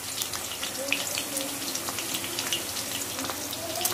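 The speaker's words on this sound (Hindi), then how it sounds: "मीडियम आंच पर ही फ्राई करें, हमें ज़्यादा फ्राई नहीं करना है" Onion frying gently over a medium flame: a soft, even sizzle with faint crackles, heard close and continuous, no talking.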